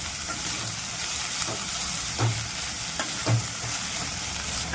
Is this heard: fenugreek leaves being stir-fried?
yes